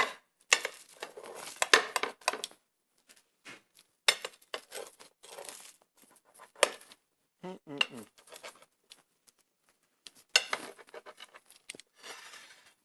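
Knife and fork scraping and clinking against a plate while slicing a fontina mushroom dish, in short scattered bursts with quiet gaps between, close up.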